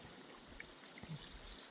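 A small stream of water trickles at its source in a hurricane debris field in western North Carolina, a soft continuous burble with faint drips, quiet and close.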